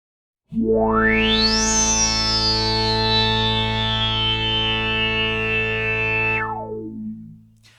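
Arturia PolyBrute synth chord with the filter resonance cranked high, a loud sustained tone with a whistling resonant peak that sweeps up sharply, glides slowly down, then drops away as the note releases into a short tail.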